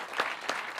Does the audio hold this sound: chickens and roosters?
no